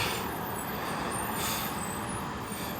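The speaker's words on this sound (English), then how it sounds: "And buses coming in." Buses arrive at a transportation center, a steady broadband rumble of heavy diesel engines and road noise with a faint hiss, continuous and moderately distant.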